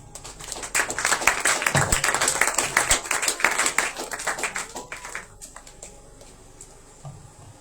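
A church congregation at a Passover service applauds as an apostle is called up, sustained crowded clapping for about five seconds that then thins out and fades to a quiet room.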